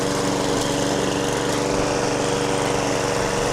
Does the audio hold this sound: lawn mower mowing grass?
yes